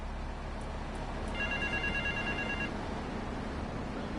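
A payphone rings in the video game GTA 3: a single electronic bell tone sounds for about a second over a steady low hum of ambient game noise.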